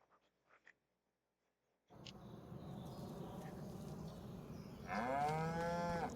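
Cattle in a farming video game: after a near-silent start, a steady ambient farm bed kicks in, then a loud, close cow moo sounds near the end.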